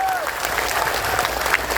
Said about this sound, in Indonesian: Tepuk tangan untuk Banser Taiwan.